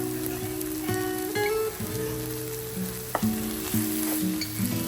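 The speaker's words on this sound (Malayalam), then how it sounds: "ഈ മീറ്റ് മസാല ചേർത്തിട്ട് ജസ്റ്റ് ഒന്ന് വഴറ്റിയതിന് ശേഷം നമുക്ക് ഫ്ലെയിം ഓഫ് ആക്കാം." Onion masala with meat masala, curry leaves and coriander leaves sautéed in a pan, a constant bright sizzle under occasional ladle knocks and scrapes, near and steady.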